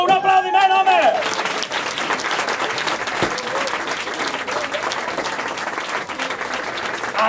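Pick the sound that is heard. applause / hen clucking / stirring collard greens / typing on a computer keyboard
applause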